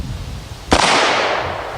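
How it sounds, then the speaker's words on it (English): A single loud, sharp gunshot from a Broomhandle Mauser pistol fired outdoors, with a sudden crack followed by a long fading echo. "We're just going to shoot over here to show you just how much recoil, in fact, it doesn't have."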